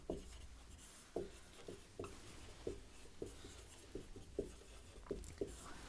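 Chalk or marker writing on a classroom board during a physics lesson, a series of short scratchy strokes in an uneven rhythm, fairly faint, with occasional soft speech in the background.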